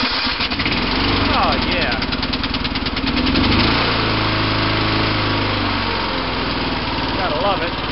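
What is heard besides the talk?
off-road lawn mower engine starting and running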